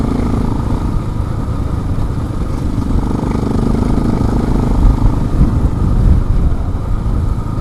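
Motorcycle engine droning steadily while riding across a farm pasture, a continuous loud low rumble with no break for the whole stretch.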